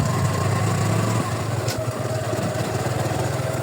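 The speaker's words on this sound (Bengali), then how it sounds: "অনেকদিন পর বাইক নিয়ে বের হচ্ছি" A motorbike engine runs steadily up close on a flood-muddied rural road, a continuous low putter with a slight dip in pitch partway through, with no talking.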